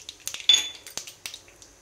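Chana dal and peanuts going into hot oil with mustard and cumin for bisi bele bath, heard as light clinks and scrapes of a spoon against the pan with brief soft sizzling bursts, close and fairly quiet.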